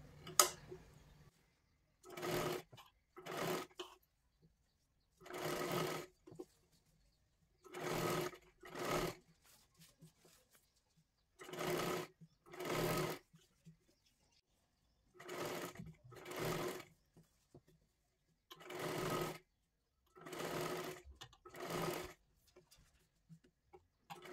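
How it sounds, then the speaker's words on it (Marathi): Short bursts of a sewing machine stitching piping around a katori blouse, about a dozen quiet runs separated by pauses, close and alone without talk. "हे गोल राऊंडमध्ये सर्वात आधी शिलाई मारून घ्यायची आहे"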